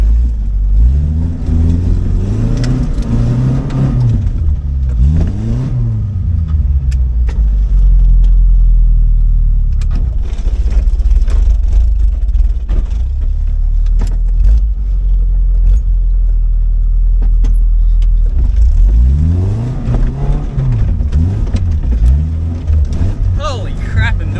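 A car with a Toyota 18R engine and a leaking, nearly useless clutch drives on a track, its engine loud and close, revving up and down through rising and falling pitch sweeps, with a person talking over parts of it.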